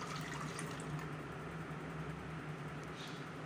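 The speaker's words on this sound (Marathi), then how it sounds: "आता आपण हे चाळणीमध्ये काढून घेऊया, म्हणजे यामधील एक्स्ट्रा पाणी जे आहे निघून जाईल।" Water drains steadily from pressure-cooked ash gourd pieces tipped into a sieve, a constant close wash of trickling liquid with no voices.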